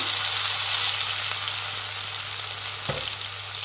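Grated raw mango drops into hot oil in a pan and fries with a loud, continuous close sizzle and steady crackle, with a brief stir partway through.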